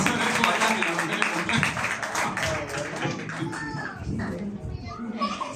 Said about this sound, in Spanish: Denle un aplauso frente al Señor esta noche.